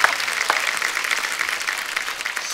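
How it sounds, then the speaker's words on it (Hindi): A studio audience on a TV show claps hard in a bright, even burst of applause. A few sharper claps stand out near the start, and the applause continues throughout without speech. "जोरदार तालियां"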